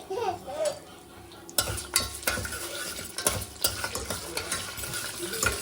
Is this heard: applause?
no